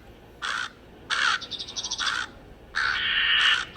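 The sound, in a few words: crows cawing in a Christmas tree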